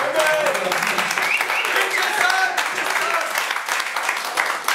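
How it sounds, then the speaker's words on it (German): A room at a press conference for a sports club applauds, with sustained clapping and overlapping voices at a fairly loud, even level. "auch hier einen ganz dicken Applaus"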